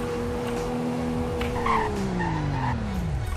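A Jeep in Roblox Greenville brakes hard, its steady engine drone sliding downward in pitch while tires squeal loudly over the final seconds, with no talk.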